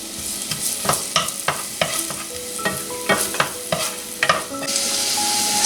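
Onion frying in olive oil in a pan over medium heat for homemade Italian tomato sauce, a steady sizzle punctuated by repeated scraping and clacking stirs, close up with no talk.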